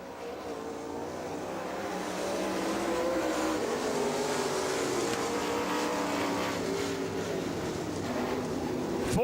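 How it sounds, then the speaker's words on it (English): A super late model race car engine roars steadily and loudly throughout at Rome Speedway in Georgia, holding a high, sustained drone with slight pitch shifts. "the next car coming out going to be the number 8 car of Tyson Harrell"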